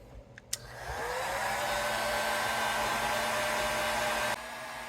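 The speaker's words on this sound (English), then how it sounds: "here is what I do for Gibson nut removals. A heat gun." A Milwaukee heat gun, used to loosen the nut on a Gibson SG guitar, clicks on and blows with a steady, close, loud fan whoosh for several seconds before it drops in level near the end.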